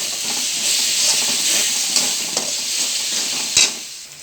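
Cumin and coriander powder stirred into frying spices for a mackerel fish curry, a steady close sizzle with scraping utensil strokes and a sharper clack near the end, no voices.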